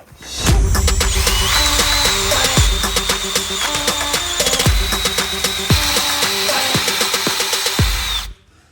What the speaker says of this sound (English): follow it up with a 1/2-inch drill bit